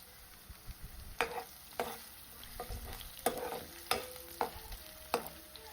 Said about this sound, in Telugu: ఇవన్నీ గోల్డెన్ కలర్ వచ్చేదాకా వేయించుకోవాలి